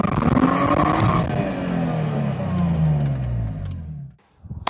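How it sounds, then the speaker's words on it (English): A BMW E46 330ci with an upgraded exhaust revs hard during a small burnout in front of a house, the engine roaring loud and close before the pitch sags and it cuts off abruptly near the end. "I'll try to do small burnout in front of the house."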